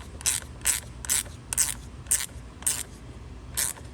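A ratchet tightens a battery terminal on a 6.0 Powerstroke, giving seven short, crisp clicking bursts in an even rhythm, close up and with no talk.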